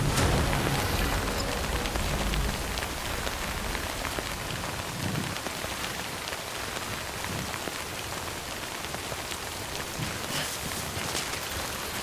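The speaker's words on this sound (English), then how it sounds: "It's drizzling and I can see the rain a little." Drizzling rain in the video game Death Stranding, a steady broadband hiss of light rainfall on surfaces that holds even and continuous throughout with no voices.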